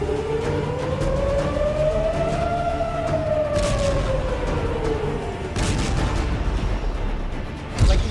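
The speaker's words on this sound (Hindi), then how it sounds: "6-7 बार अभी तक सायरन बज चुकी है और बार बार सायरन बजती है" An air raid siren wails during an Iran-Israel attack, one long rising and falling tone, loud and sustained, with distant booms and rumbling beneath it.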